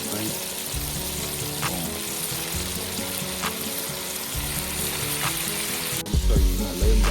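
Catfish frying in hot oil with a constant loud sizzle, dense hiss throughout, then a louder clatter as more pieces go in near the end, with a brief spoken word.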